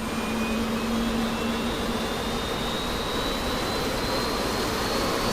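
Engine 1 of an airliner roars steadily with a rising whine, loud and continuous from close by, a broad rushing drone filling the whole stretch.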